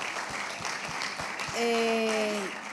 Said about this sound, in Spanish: aplauso para la respuesta de nuestra pastora